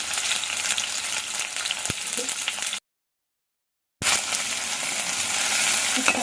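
Two sliced onions and about five green chillies fry in hot oil for a ladyfinger curry, giving a loud, continuous close sizzle broken by a brief silent gap before resuming.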